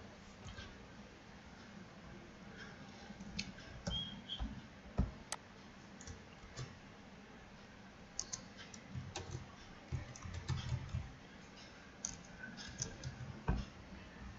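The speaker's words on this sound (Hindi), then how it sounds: "तो मेरा करेक्ट पासवर्ड मैं फिल कर रहा हूँ अभी" A password is typed on a computer keyboard, making faint, soft key clicks in irregular bursts over quiet room noise.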